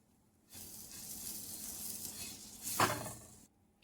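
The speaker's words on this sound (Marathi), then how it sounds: "वरतून पण थोडंसं लावायचं बटर आणि थोडं भाजून घेऊ" Pav bread toasting in butter on a hot pan gives a soft, low sizzle that starts after a quiet moment and holds for about three seconds, with one brief louder sputter near the end before it stops.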